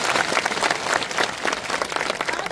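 Dense, steady applause from a rally audience, many hands clapping loudly together at close range for the whole stretch with no voice above it.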